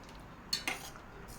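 A spoon stirs paal kozhukattai mixture in a cooking pot, giving two brief metallic clinks against the pot over a quiet background.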